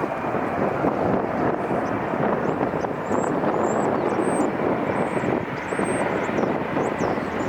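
An airplane approaching LAX airport makes a continuous broad engine roar, loud and steady throughout with wind buffeting the microphone and faint high chirps above.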